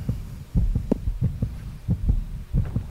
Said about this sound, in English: we got the heartbeat coming